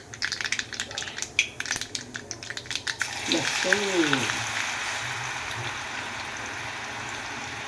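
Mustard seeds, cumin and coriander crackle and pop in hot oil in a pan, a burst of sharp spatters giving way to a softer, steady sizzle, with a short spoken voice in the middle.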